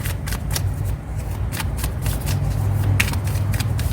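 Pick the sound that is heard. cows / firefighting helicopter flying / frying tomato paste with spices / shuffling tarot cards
shuffling tarot cards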